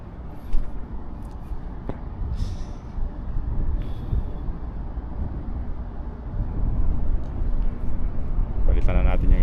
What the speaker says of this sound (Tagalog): maingay yung tunog ng compressor niya mga boss.